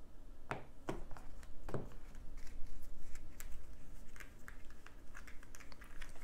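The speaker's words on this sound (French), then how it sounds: "je vais d'abord placer les cartes une par une sur le tapis" Tarot cards set down one by one on a mat, a few soft slaps and light scuffs of card against fabric over a steady low background hum.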